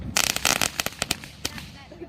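Firecrackers popping outdoors at a Fourth of July celebration, a rapid burst of sharp cracks in the first second followed by several scattered single bangs, with people's voices heard around them.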